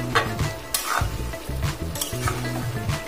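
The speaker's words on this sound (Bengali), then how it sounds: "এবার আবারও সয়াবিন, পেঁপে, আলু সুন্দরভাবে 2 মিনিটের জন্য কষাবো।" Soybean chunks, papaya and potato stir-fried in a pan, with a spatula scraping and clattering in steady strokes over a close, constant sizzle, no voices.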